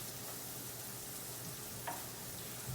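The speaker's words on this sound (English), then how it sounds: "just gonna scrape up all those little burnt bacon bits" Bacon fat sizzling steadily in a hot pan as burnt bacon bits are scraped from the bottom, a constant close hiss with a faint scrape near the end.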